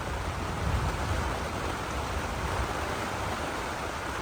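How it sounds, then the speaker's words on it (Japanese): Steady rain pours down at a solo campsite on a windy, stormy day, a dense continuous hiss with a low rumbling undertone, close and even throughout with no talking. "雨と雷だ。"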